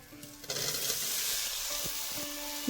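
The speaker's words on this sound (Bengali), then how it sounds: "এবার আমি এর মধ্যে কুলগুলো দিয়ে দিচ্ছি" Jujubes (kul) dropped into hot oil in a pan turn a quiet kitchen into a sudden broad sizzle that holds steady and loud at close range, with a few light clinks of a spatula and no talk.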